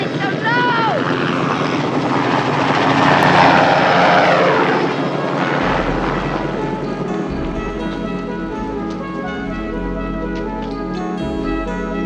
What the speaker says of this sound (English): They have helicopters out here, too, you know.